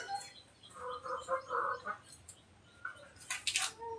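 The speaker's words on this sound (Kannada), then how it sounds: "ಅದನ್ನೆಲ್ಲ ಕೆದಿಕೊಂಡು ಕೋಳಿಗಳು ತಿಂತವೆ" Farm chickens clucking in a few short bursts, with a rooster's sharper calls near the end, moderately close and loud with no speech.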